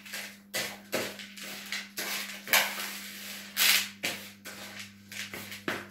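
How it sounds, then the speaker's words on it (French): Cookie dough with chocolate chips being stirred in a bowl, producing irregular scraping and soft thumping strokes that repeat about once or twice a second over a steady low hum. "On ajoute ensuite des pépites de chocolat. On mélange."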